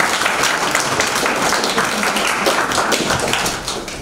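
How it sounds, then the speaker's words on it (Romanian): Audience applause at a book launch in Onești, a steady dense patter of many hands clapping indoors for the full length, fading slightly at the end. "Haideți să-l aplaudăm."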